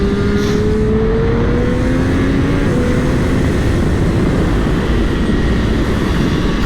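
Triumph Street Triple 765 motorcycle engine accelerating steadily, a loud continuous roar with rising engine tones, heard up close without talk.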